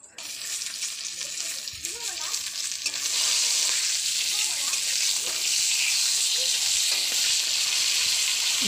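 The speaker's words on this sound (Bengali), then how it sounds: "মাছগুলো ভালো করে ভাজা হয়ে গেছে।" Pieces of rohu fish fry in hot oil for a Bengali fish curry, with soft stirring at first, then a loud, steady sizzle that swells after a few seconds and holds close and continuous.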